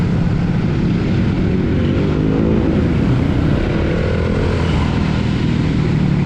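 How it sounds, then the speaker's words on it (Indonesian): A Honda CBR150R motorcycle engine running, a loud, steady, dense drone with a broad rough roar and no pauses, close by, with no talking over it. "suara atau getaran daripada motor yang saya pakai ini cukup besar"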